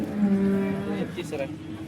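A cow lowing at the Sangola cattle market in Maharashtra, one loud, close moo lasting about a second, followed by faint market background.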